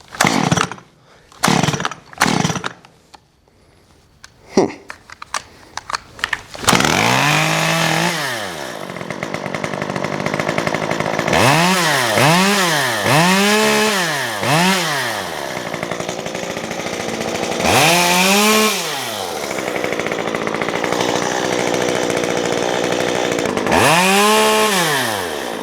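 A small engine, flooded and loaded up at idle, is snapped open to full throttle and revs hard in repeated rising and falling bursts, loud and close, after a few sharp knocks at the start; no talk.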